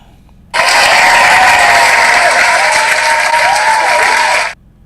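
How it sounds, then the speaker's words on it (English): Loud, sustained applause from a high school crowd gathered in a gym or assembly, starting abruptly and holding steady for about four seconds before cutting off. "Cue the applause."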